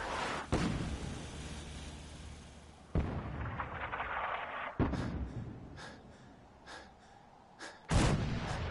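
Heavy artillery and gunfire: several loud, separate booms, each followed by a long rumbling decay, with smaller pops and distant reports in between.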